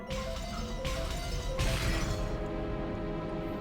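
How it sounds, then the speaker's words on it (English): Game sound effect of heavy knocking and shattering glass throughout a mansion under siege, a dense loud wash of crashing with a few sharper smashes, tailing off with a ringing tone. "All over the mansion, there were loud beating sounds that might be called knocks and the sound of shattering glass"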